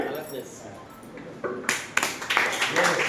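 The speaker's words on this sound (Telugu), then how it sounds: "నేను క్లాప్స్ అన్నప్పుడు మాత్రం క్లాప్స్ కొట్టండి" A classroom of students claps hands together on a teacher's cue: quiet murmur at first, then a burst of scattered, overlapping claps that grows into a fuller round near the end, heard fairly close.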